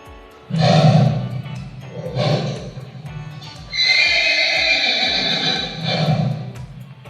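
Two loud, close horse neighs with long shaky whinnies, separated by a brief pause, with faint hoof clops beneath them.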